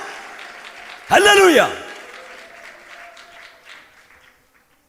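A church congregation claps hands at a Malayalam prayer service, with a loud, brief shout of praise rising over the clapping before it fades into the hall.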